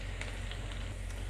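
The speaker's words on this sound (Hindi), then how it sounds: "इसको थोड़ा सा हल्का सुनहरा होने तक फ्राई करें" Sliced onion fries in desi ghee and oil in a pan, a soft, steady sizzle with faint crackles throughout, quiet and close, with no voices.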